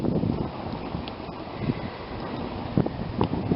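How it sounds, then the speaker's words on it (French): Wind gusts outdoors across vegetable plots during a squash harvest, with a low, continuous rumble on the microphone. A few brief stronger buffets stand out near the end, and no one speaks. "Et puis là, il y a du vent."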